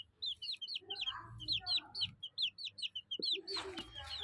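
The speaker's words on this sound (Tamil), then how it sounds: "நம்ம கோழி கொஞ்சம் பாருங்க." A chicken clucks and chirps in a quick run of short, close calls with brief gaps, and a few deeper rustles and bumps sound beneath.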